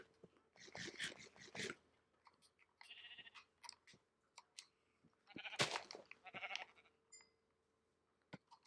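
Sheep bleating in Minecraft on Xbox One, several short bleats in bursts, moderately close, with game clicks and a brief spoken phrase in between.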